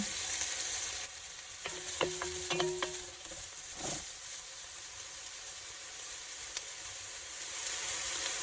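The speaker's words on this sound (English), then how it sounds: "The sizzle lets you know that it's cooking." Chopped onion sizzles in oil in a pan for white bean and kale soup, a steady close hiss with a few sharp clicks and scrapes of stirring partway through and the frying louder toward the end.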